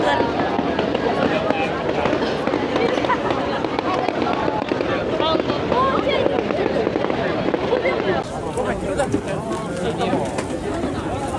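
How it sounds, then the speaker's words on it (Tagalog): Continuous crackling and popping of distant fireworks at the Osaka Tenjin Matsuri festival fills the air, with people talking in the background throughout. "Fireworks display na di aesthetic."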